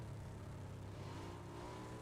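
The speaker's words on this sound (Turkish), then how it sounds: "Motor sesi." A motorcycle engine revs in the PUBG battle royale game, a steady mid-pitched drone that climbs slightly in pitch as it accelerates, moderately loud and continuous with no one talking over it.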